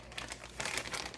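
Plastic zipper bags are handled up close, giving a quick burst of soft crinkling and rustling with a couple of slightly louder crackles.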